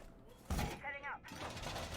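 Wall reinforcement being set up in a video game: a sudden mechanical clank followed by metallic rattling and creaking, with a brief whirring tone, then a steady low mechanical hum, fairly faint overall.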